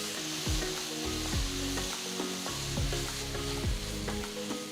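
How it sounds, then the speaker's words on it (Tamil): Onions and ginger garlic paste sizzle and fry in a pan on a stove while a spatula scrapes and stirs in regular strokes. The frying is loud and close, and nobody speaks. "நெக்ஸ்ட் 2 டேபிள் ஸ்பூன் இஞ்சி பூண்டு பேஸ்ட் சேர்த்து வதக்குங்க."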